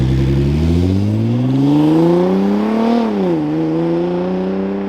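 Nissan GT-R fitted with an AAM active exhaust set to quiet mode revs up steadily, its engine note rising over about three seconds, then dipping and settling back to a muted, continuous drone with no talking.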